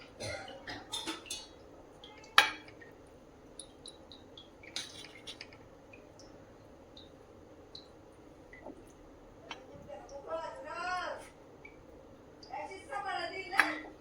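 Dishes clink and a spoon taps on a steel plate as a meal is served at home, with sparse sharp knocks and scrapes; someone talks intermittently nearby.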